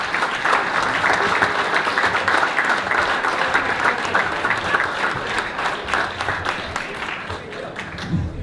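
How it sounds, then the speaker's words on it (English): A standing ovation for George Thomas at a Chamber of Commerce honors event: sustained, dense clapping from a large crowd fills the room steadily, with some voices mixed in under it. "You have a standing ovation, George."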